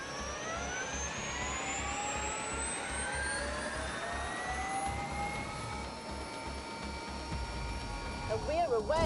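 Racing car engine in The Grand Tour video game, a steady high whine with rising pitch as it accelerates through gears, loud and continuous with engine buzz filling the whole stretch.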